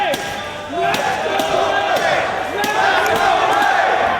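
A hometown Chicago crowd at a wrestling match roars and cheers loudly and continuously, with repeated thuds and slams from the ring cutting through the crowd noise.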